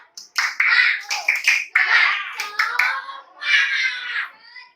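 A school class performs a rhythmic clapping chant of encouragement, sharp hand claps in quick patterned bursts mixed with shouted children's voices, close and lively, ending in a drawn-out group shout.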